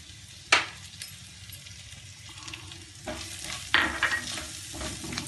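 Onion and ginger fry in a pan on medium flame with spices and chillies, a steady sizzle broken by a few sharp stirring scrapes and clinks near the start and again past the midpoint, no voices.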